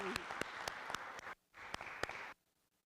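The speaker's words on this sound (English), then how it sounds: "let's give these students a round of applause" An audience at a student debate claps in a short burst of applause, with a few louder individual claps standing out, pausing briefly and then rising again before stopping abruptly.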